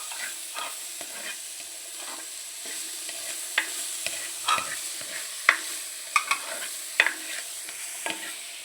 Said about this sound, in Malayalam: നന്നായിട്ട് ഇളക്കി യോജിപ്പിക്കുക